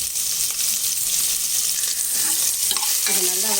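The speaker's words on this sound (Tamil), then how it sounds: "இது நல்லா வதக்கிடலாம்." Onion frying in hot oil with fennel seeds, bay leaves and cardamom for a goat trotter paya, a loud, steady, close sizzle with faint stirring and no voices.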